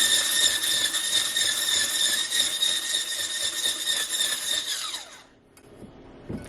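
An electric mixer whips sugared egg whites toward stiff peaks for fluffy pancake batter, a steady, loud, high motor whine running about five seconds before cutting off abruptly into near quiet.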